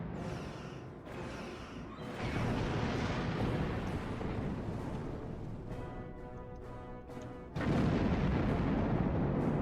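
Starship weapons firing in Star Trek Online as a dense run of loud energy blasts and explosive bursts with rumbling impacts, building to a heavier barrage at the end.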